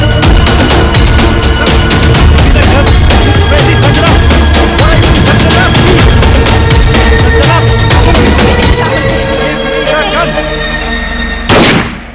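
Loud, dense gunfire in a Hindi horror film scene, a sustained barrage of overlapping blasts that cuts off abruptly just before the end.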